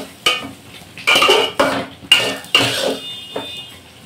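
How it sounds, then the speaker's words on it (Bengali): Chicken korma with sugar being stirred in a cooking pot: a spoon scrapes and clatters against the metal in several loud, uneven bursts with short pauses between, and no voices. "চিনিটা দিয়ে এই যে নেড়ে চেড়ে"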